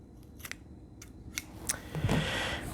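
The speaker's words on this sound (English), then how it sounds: "So we just cut a little wedge in here." Scissors cutting a small wedge into kinesiology tape: a few crisp, close snips spaced about half a second apart, then a longer rustling cut, quiet and with no talk.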